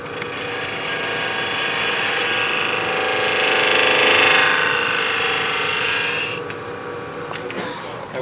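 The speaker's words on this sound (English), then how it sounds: "I'm going to go in and clean that up just a little bit with a spindle gouge" A spindle gouge cuts wood on a lathe in a multi-axis turning session, giving a continuous, fairly loud scraping hiss over the motor's hum for several seconds before it eases off.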